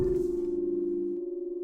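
A dissonant chord built from clashing half steps is struck on a keyboard instrument, its tones beating roughly against each other as it sustains and slowly fades, heard alone.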